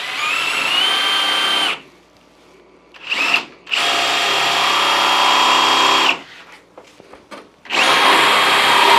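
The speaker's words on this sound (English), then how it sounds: "put a paddle bit, a 1-inch paddle bit in through our center line here" A power drill boring through an interior door with a 1-inch paddle bit, a loud close whining grind in two long bursts separated by pauses and short trigger blips.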